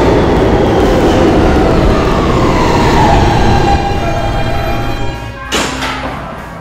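An E train subway car rolls along the track with a loud, continuous rumble and screech of steel wheels, steady throughout before a sharp clank and a slight drop in intensity near the end.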